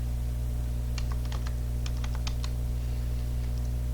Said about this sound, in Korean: 네이버에서 영어로 줌이라고 입력합니다.